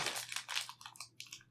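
Plastic packaging on a dice set is torn and pulled open, a close series of crinkling, crunching rustles in short irregular bursts, no voices.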